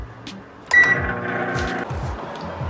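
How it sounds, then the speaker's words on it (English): A microwave heating a samosa beeps and then starts up, its steady electric hum running loud and close after a brief quiet moment. "I will heat it up in the microwave"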